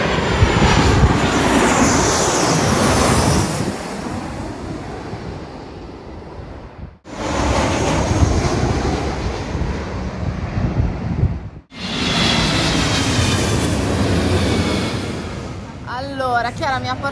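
Fixed-wing airplane coming in to land low overhead in San Diego, a loud, close roar of engines with rushing wind noise that rises, dips briefly twice and swells again, with voices heard under it.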